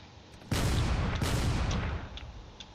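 A carrier ship in a space combat video game fires its cannons, two heavy booming blasts close together followed by fainter distant shots, with no talking.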